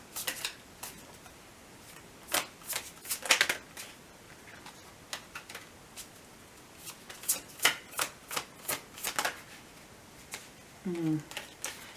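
A deck of tarot cards is shuffled in soft, irregular bursts of papery riffling and slapping, fairly faint and close, with quiet gaps between bursts.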